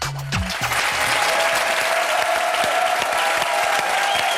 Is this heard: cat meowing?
no